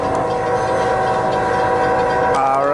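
An Amtrak passenger train passes at close range as a loud, continuous rumble with steady wheel and engine drone, and a rising tonal sweep appears near the end.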